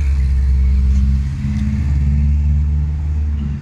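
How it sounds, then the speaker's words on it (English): A loud car passes close by with a deep, steady engine rumble that swells and then fades slightly, with no talking. "That was a loud car."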